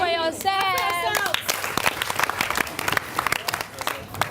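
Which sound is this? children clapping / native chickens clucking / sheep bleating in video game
children clapping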